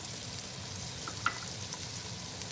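Egg biryani masala with mint and coriander stalks frying in oil in a pot, a steady soft sizzle running throughout with one small sharp pop partway through.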